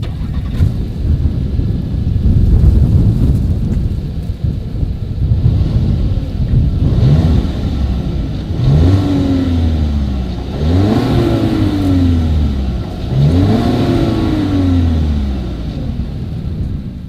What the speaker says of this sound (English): Here is the 2020 Volkswagen Tiguan exhaust clip.